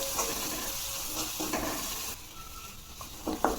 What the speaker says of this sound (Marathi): आपले सुके मसाले पण व्यवस्थित परतून झाले।